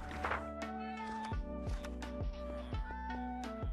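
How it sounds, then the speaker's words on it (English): Several cats meowing in the video game Minecraft, repeated short mews over a steady backdrop of game music, fairly close and clear. "Wait, why am I hearing so many cats?"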